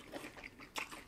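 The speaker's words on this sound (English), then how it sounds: "It's so crunchy." Close, crisp crunching bites into something crispy, a few quick crackles in a quiet setting.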